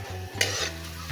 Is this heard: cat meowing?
no